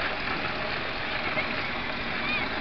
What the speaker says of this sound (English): Look at that John Deere tractor.